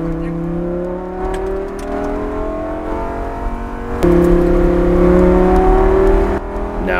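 A Lamborghini Gallardo GT race car accelerates hard on a Las Vegas track, its engine note climbing through the gears with a sharp shift and surge of loudness partway through, heard loud and close from the cockpit.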